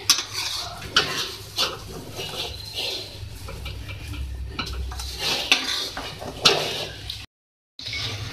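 A spoon scrapes and clinks against a pot while beef, potato and pea taheri rice is stirred, giving repeated close metallic knocks over soft shuffling, with a short silent gap near the end.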